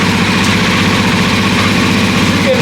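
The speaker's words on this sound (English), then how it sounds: "Cold start of a Ducati 698 after it's been sitting outside all night in the freezing cold." A Ducati 698 single-cylinder motorcycle idles after a cold start on a freezing morning, a loud, close, steady low thumping rumble with no talk.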